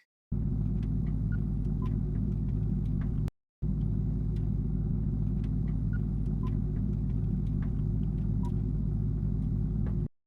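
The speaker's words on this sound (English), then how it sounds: "there's a room tone, which is kind of just a loop" A steady low hum with faint ticks repeats, cutting off briefly and restarting unchanged, a looping room-tone drone from a sci-fi action shooter game.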